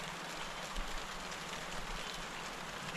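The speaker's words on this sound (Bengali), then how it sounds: "কারণ এখন বৃষ্টি হচ্ছে, দুপুর কিন্তু বৃষ্টি হচ্ছে" Steady afternoon rain falls continuously during planting, a dense even hiss with a low rumble underneath, moderately loud and unbroken throughout with no voices.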